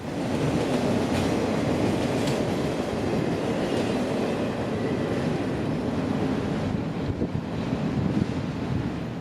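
A CSX autorack shuttle train, Q202, rolls past in a continuous loud rumble and wash of wheel and car noise, with wind buffeting the microphone throughout.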